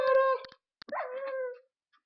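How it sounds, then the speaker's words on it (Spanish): Dogs in Minecraft let out a short, whining howl followed by a couple of yips and a second drawn-out whimper, loud and close, with no talk over them. "Pero ¿cuántos perros hay aquí?"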